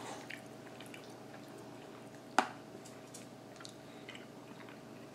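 Quiet, close chewing of Jack in the Box triple cheese and bacon curly fries with ranch, soft moist mouth sounds and one sharper bite partway through.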